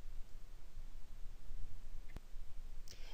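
A single crisp computer mouse click while working in Microsoft Access 2010, brief and close against a quiet background hiss.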